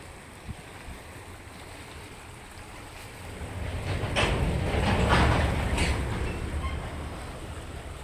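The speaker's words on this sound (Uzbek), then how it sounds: "Bu shu tepadan oqib kelayotgan soy bu." A mountain stream flows down from the hills in a steady broadband rush that swells louder midway, then eases a little, heard alone with no talking.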